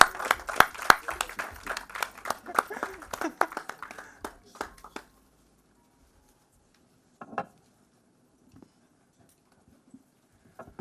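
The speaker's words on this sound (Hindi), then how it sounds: "let's give them a huge round of applause" A small group at a media event claps in a thin, scattered burst with distinct individual claps, tapering off after about five seconds into near silence with a few stray sounds.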